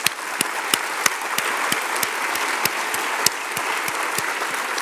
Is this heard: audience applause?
yes